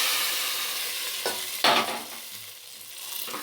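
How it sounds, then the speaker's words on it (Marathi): Hot tempering is poured into a pot of South Indian sambar, setting off a loud hissing sizzle that flares sharply midway and then settles into quieter bubbling and crackle, close up with no talking. "आता ही फोडणी आपली रेडी झालेली आहे. ही बघा, आता मी अशीच ही या सांबारमध्ये ओतणार आहे"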